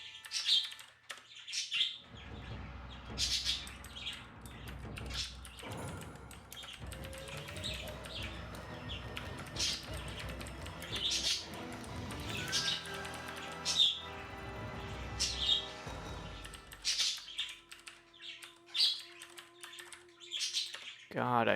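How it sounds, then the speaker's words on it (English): Pet birds chirp indoors in sharp, repeated bursts, loud and close to the mic, spread across a long stretch alongside keyboard tapping and a person speaking over them. "I hate the mic clipping noise when my birds are so loud."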